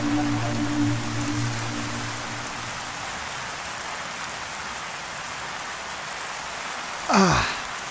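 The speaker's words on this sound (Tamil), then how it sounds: "மழை இப்படி பெஞ்சு கெடுக்குதே." Heavy rain falls in a steady broadband hiss for the whole stretch, loud and close, with a low tonal hum early on and a brief rushing sweep near the end.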